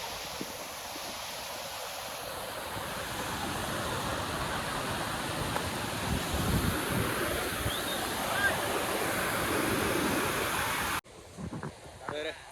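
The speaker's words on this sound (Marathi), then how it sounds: "समोर बघा काळू वॉटरफॉल कसलाय बघा एक नंबर" Kalu waterfall in Malshej Ghat rushes with a steady broadband roar that swells slightly midway, heard from a short distance in the open, then cuts off to a quieter, brief stretch at the end.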